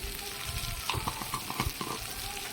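Close sizzle of curry with ground coriander and cumin frying in a pan, with a run of scraping and knocking strokes as a spoon stirs it.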